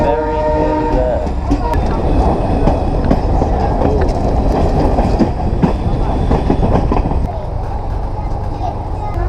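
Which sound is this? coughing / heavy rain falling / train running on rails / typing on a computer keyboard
train running on rails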